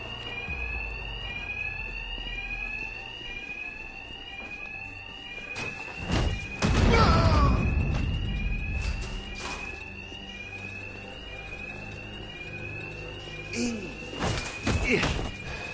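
Electronic alarms blare in Batman: Arkham Knight, a rapidly repeating rising tone that sweeps steadily throughout, with heavy thuds and impact bursts breaking in around the middle and near the end.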